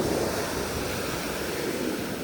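High sea waves break and wash onto a Black Sea beach at Mamaia, Romania, a steady loud roar of surf with wind buffeting the microphone throughout.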